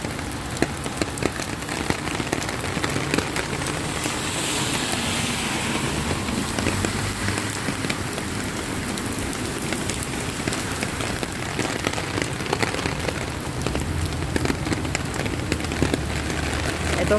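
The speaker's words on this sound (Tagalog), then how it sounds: "mukhang hindi na ito maghapon itong ulan na ito dahil madilim talaga ang kalangitan" Heavy rain pours down steadily under a dark sky, a dense, continuous hiss with no pauses and no voices.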